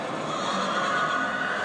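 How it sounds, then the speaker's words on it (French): A horse neighs in a long, rough whinny that fills the whole moment, heard loud and close against a noisy wash of background sound. "cheval, papa."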